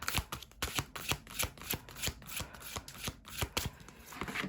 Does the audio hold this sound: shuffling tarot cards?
yes